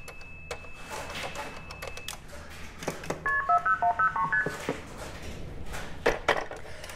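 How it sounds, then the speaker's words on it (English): Multi-frequency telephone signaling on a trunk line: a quick run of short, evenly spaced tone bursts, followed by phone ringing, heard clearly against a noisy line with some scattered clicks. "now we hear some MF followed by phone ringing"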